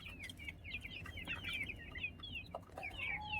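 Aseel and Kadaknath chickens on a rooftop farm cluck and chatter in quick repeated calls, close by and fairly faint, with no talking.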